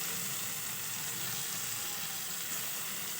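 Spices with ginger sizzle and fry steadily in oil in a pan for a crab curry, a close, continuous crackling hiss with no break.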